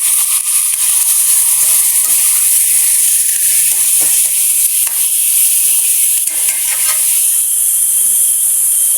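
Chicken pieces sautéing in a hot pan for Filipino tinola, a loud continuous sizzle with steady hiss and occasional stirring scrapes, close and alone without voices.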